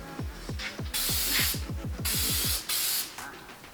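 Spray adhesive hisses out in a mist in several loud bursts, with rapid rattling clicks from the can between sprays, close up and alone, while preparing to apply honeycomb carbon fiber trim.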